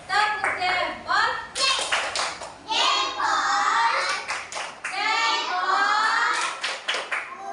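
Children in a classroom perform the tepuk jempol clapping chant for group two, with rhythmic bursts of hand claps and taps mixed with loud, overlapping young voices chanting and speaking throughout.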